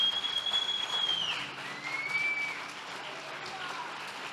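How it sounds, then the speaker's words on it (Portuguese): Congregation applauding during a church service, a broad wash of clapping with sustained tones and a voice carrying over the top, moderately loud throughout. "você pode aplaudir ao Senhor"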